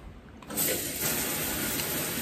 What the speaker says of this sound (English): let's run the shower